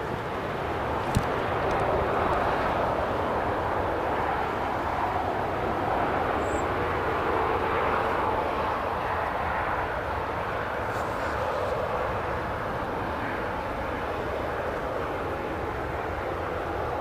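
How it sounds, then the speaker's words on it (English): TUI Boeing 737-800 taxiing at Newcastle International Airport, a steady low jet engine rumble and whine at moderate distance, fairly constant throughout with no clear speech on top. "The TUI, talking of which, 738 is just taxiing here."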